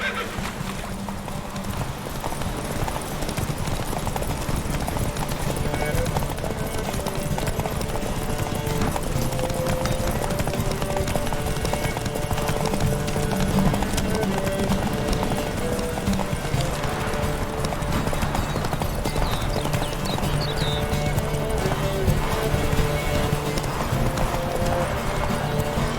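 Roach the horse gallops in The Witcher 3, with continuous rapid clip-clop hoofbeats and a whinny, loud and close over a tonal musical background.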